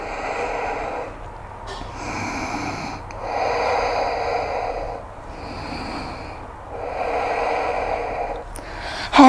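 Slow, deep breathing during a prenatal yoga session, with several long, audible breath cycles in a steady rhythm heard up close, and no talking.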